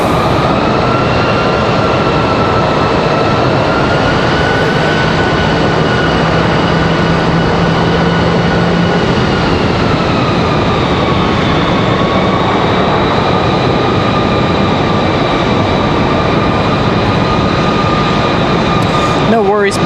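A Cessna light aircraft engine runs at Raleigh Durham airport, a loud steady drone with sustained tonal whine that dips in pitch partway through, heard close and continuous.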